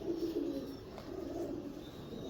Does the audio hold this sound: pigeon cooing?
yes